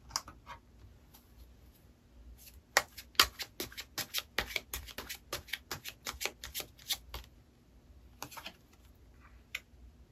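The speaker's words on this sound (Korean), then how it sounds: "추가 카드로 한번 뽑아볼게요" Tarot cards are shuffled and drawn by hand, giving a close, quiet run of rapid crisp flicks and snaps. Softer sliding and handling noises come before and after the busy shuffle.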